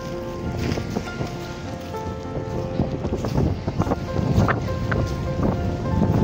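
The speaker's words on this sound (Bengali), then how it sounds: "খুব জোর বৃষ্টি চলে এসছে" Heavy rain pours down at a quiet beach near a river mouth in Puri, a continuous loud wash of noise with wind buffeting the microphone and scattered louder spatters throughout.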